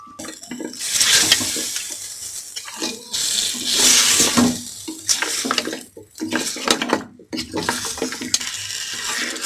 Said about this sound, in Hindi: मटन को हम 2 से 3 मिनट तक भून लेंगे।